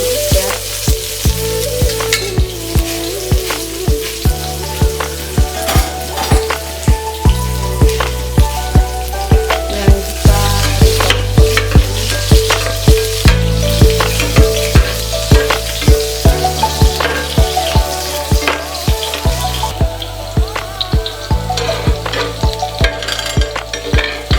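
Onions frying in a pan for a bamboo curry, a loud continuous sizzle and crackle with frequent stirring scrapes, heard close up over steady background music, with no talking.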